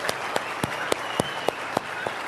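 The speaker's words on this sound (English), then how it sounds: "You guys, a big round of applause for courage here." A seminar audience applauds, a steady wash of clapping with several louder sharp claps standing out at a regular pace nearby.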